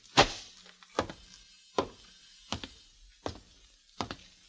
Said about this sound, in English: I open the door for you